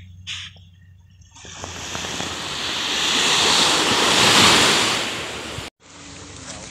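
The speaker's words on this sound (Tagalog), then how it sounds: "Hindi namin alam yung pangalan ng beach na to here in Bicol." Waves breaking and washing up on an unnamed clean beach in Bicol, Philippines, a loud broad surf roar that swells toward the middle before cutting off abruptly, with some wind buffeting the microphone; no voices.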